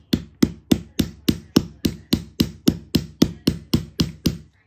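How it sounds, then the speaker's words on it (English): A rubber hammer taps out a wheel bearing on a BMW S1000RR, sixteen or so evenly spaced, firm close knocks in a steady rhythm, each with a short dull ring, no voices. "just lightly tap them out with a rubber hammer"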